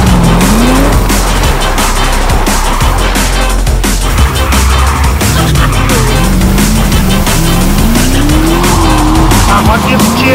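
A Drift Riot car drifts in a video game, its engine roaring and tires squealing loudly and continuously, with music playing throughout.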